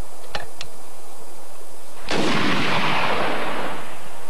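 An anti-tank weapon fires a round at a target during a Queen's Regiment combat exercise: two faint sharp clicks, then one loud, close blast with a long, rumbling roar trailing off.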